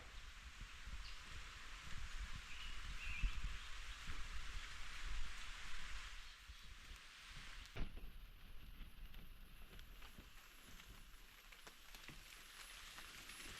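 Steady rain patters outdoors in a continuous soft hiss over leaves and surfaces, fairly faint and unbroken, with no voices on top.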